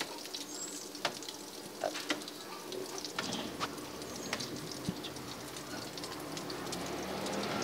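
Food sizzles steadily in hot oil for a small roadside snack order, a dense crackling hiss that holds throughout with occasional sharper pops and light stirring clinks, close and fairly loud with no talking.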